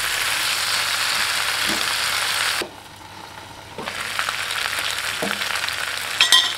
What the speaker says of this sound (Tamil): இந்த டைமில் நம்ம க்ளீன் பண்ணி வச்சுருக்கிற வல்லாரை கீரையை சேர்த்துக்கலாம்.